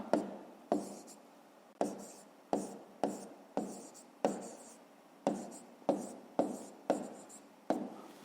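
Pen or chalk strokes writing out a fifth-grade math solution by hand, heard as about a dozen short scratchy strokes in a steady rhythm, close and fairly quiet, with no talking.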